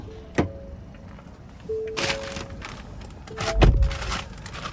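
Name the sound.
getting into driver's seat of 2024 Ford Edge Titanium Elite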